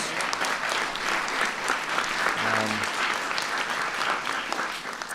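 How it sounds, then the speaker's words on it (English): XKCD comic creator Randall Munroe receives applause from an audience at the White House Science Fair: continuous, fairly soft crowd clapping that holds evenly throughout, with a brief tonal sound near the middle. "Give him a big round of applause."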